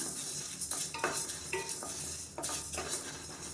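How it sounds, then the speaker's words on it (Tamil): Black urad dal and rice dry-roasting in a pan, with repeated scraping strokes of a spoon stirring the grains, close and steady with no talk. "இது எல்லாத்தையுமே நல்லா வறுத்துக்கலாம்"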